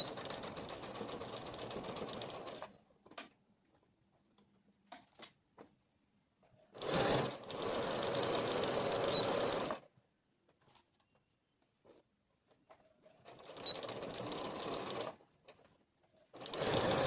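A sewing machine runs stitching a muslin dress in several bursts, a long steady run near the start, another mid-clip, and a third near the end, with quiet handling gaps between and no talk.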